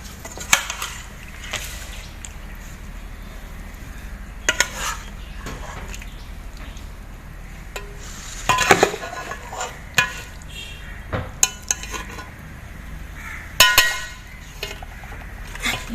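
Spices being mixed into chicken biryani in a pot, with scattered clinks and scrapes of a utensil against metal and a few louder knocks, close and intermittent over a quiet background.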